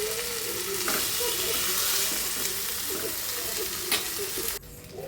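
Bangda mackerel coated in rava shallow-fries in oil on a tava, giving a steady crackling sizzle with intermittent spatters and stirring scrapes, close up, before the sound drops suddenly near the end.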